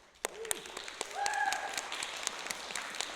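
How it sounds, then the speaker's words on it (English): A small improv comedy audience gives sparse, scattered claps for a character named Chip, quiet and uneven, with a brief vocal whoop rising in the middle. "let's do a round of applause for Chip"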